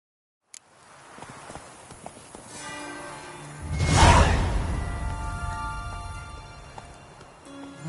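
Horse hooves from Roach in The Witcher 3: Blood and Wine, a steady clip-clop of galloping under game music and ambience, with a loud whoosh swelling around the middle.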